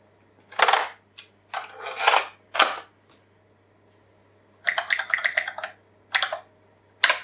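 Typing a command on an Oric home computer keyboard: short clusters of hard plastic key clacks at close range, separated by silent pauses, with a faint background hum and no speech.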